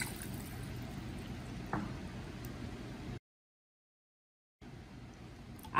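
Pineapple juice poured for humba, a steady liquid pour running for about three seconds, then a short silence before another faint, close-up pour resumes.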